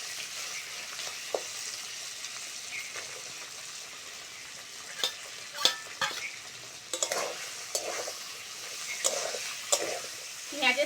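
A fish head and chopped onion fry in a pan with a soft continuous sizzle, broken by scattered scraping stirs and spatula clicks that grow busier toward the end, with no talk.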